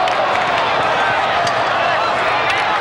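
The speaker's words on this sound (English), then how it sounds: "The crowd that's here is still into it, aren't they?" A football crowd at a 1989 Syracuse vs. Cortland game in Central New York: a steady, loud roar of cheering and shouting fills the stands without a break.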